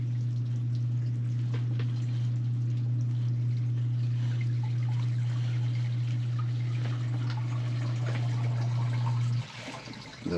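Water gushing steadily out past the flapper of a sump pump, a loud continuous pour with a low hum underneath that cuts off near the end.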